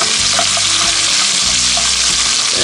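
Loud, dense sizzle of onions frying with browning beef in a camp Dutch oven, a steady hiss filling the whole moment with faint scraping underneath and no voices.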